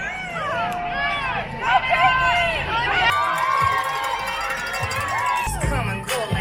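Roadside spectators cheer runners in Manhattan around kilometre 27 of the 50th New York City Marathon: a dense, continuous crowd roar with shrill whistles and whoops, loud and close, and footsteps and passing noise mixed in.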